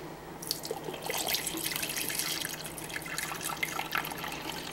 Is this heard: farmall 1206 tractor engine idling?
no